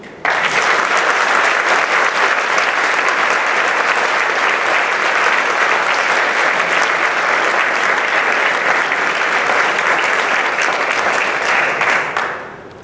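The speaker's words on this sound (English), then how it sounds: "perhaps we could give a warm round of applause to AFSA and to the Rifkin family" A steady, loud round of applause fills the hall at an awards ceremony, dense and unbroken clapping from a large audience for about twelve seconds before cutting off abruptly.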